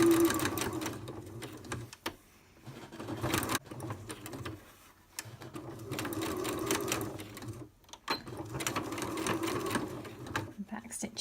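A sewing machine back stitches over the end of a fabric gift tag in several close bursts of rapid needle whirring, separated by brief pauses, with a person talking between and over the runs.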